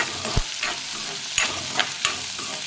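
Onions, green chilies, garlic and tempering seeds sizzle in oil in a pan while being stirred, with a steady frying hiss broken by a few sharp scrapes and knocks of the spoon.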